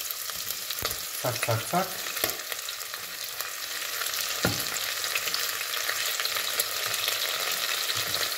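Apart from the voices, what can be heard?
regular and red onions frying in a pan outdoors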